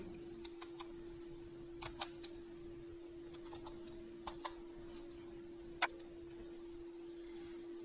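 Short bursts of quiet key taps on a computer keyboard as a captcha is typed. The taps come in small clusters over a steady electrical hum, with one sharper click near the end.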